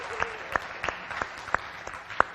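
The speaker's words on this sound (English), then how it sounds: "Slow clap." A conference workshop audience gives a slow clap: about seven separate, evenly spaced handclaps over two seconds, sparse and deliberate, set against a quiet room murmur.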